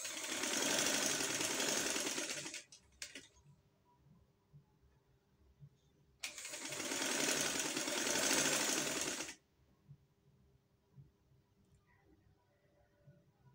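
A sewing machine runs a straight line of stitches along sleeve fabric for a ring-sleeve design, in two close, steady bursts of whirring separated by a few quiet seconds.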